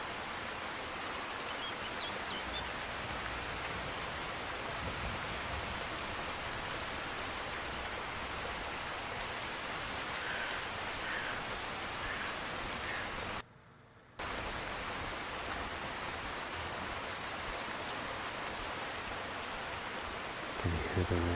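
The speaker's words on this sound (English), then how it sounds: "Can you hear the rain hitting the stone on the road" Steady rain falling on a stone road in the Skyrim video game, a continuous dense hiss of drops that cuts out briefly near the middle, with a faint low thump at the end.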